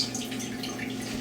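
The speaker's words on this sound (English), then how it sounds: "Now I just put some water in there." Water trickles into a jar of sprout seeds, a short, faint, steady pour with light splashing.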